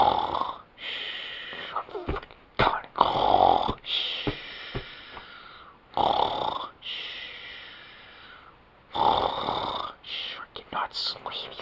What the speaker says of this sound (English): your snoring is incredibly loud